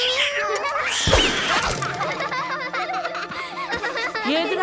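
A cat meows and caterwauls in a short rising yowl while being pestered by children, with busy background sounds and a brief giggle around it.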